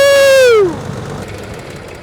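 A small airplane engine, freshly revived on an abandoned aircraft, holds a strong harmonic drone that slides down in pitch as the throttle comes off, then settles into a rough, low idle rumble.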